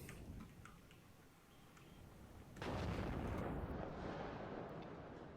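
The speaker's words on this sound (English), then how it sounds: "Tanner's forces taking a lot of damage in the middle from all that artillery fire." Artillery fire in the WARNO real-time strategy game, a sudden loud rumbling barrage that rises midway and lingers as a dense roar, preceded by quieter battle ambience.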